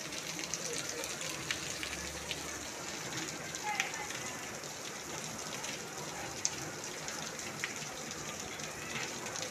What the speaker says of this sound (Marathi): हे बघा पावसाला सुरुवात झालेली आहे